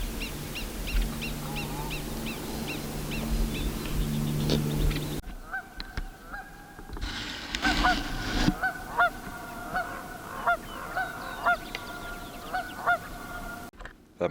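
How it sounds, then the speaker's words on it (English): Canada geese honking near a pond in woodland at a campground outside Williams, Arizona, a rhythmic run of repeated honks that grows louder and busier in the second half, with steady bird chatter underneath and no talk. "That must be Canadian geese"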